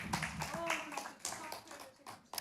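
A church congregation at a worship service claps warmly, a fairly quiet patter of hands with uneven bursts, mixed with low murmuring voices over the short stretch.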